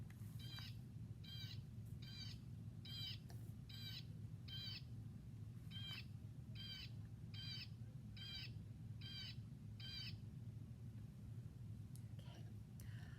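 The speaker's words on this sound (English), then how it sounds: "Blue jays like to eat nuts and seeds and soft fruit and insects. And they're very, very noisy and loud." A blue jay gives a series of harsh, repeated calls, about a dozen evenly spaced squawks over a low steady background hum.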